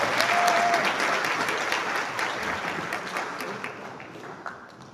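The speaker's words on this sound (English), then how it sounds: "Can you clap a hand for that?" Delegates at a parliamentary plenary assembly forum break into sustained applause, dense clapping filling the hall loud at first and gradually thinning as it fades, with no talk over it.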